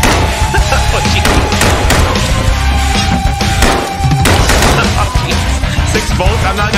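Rapid gunfire shooting at spiders in the game Kill It With Fire, loud dense bursts of repeated shots with thumps throughout.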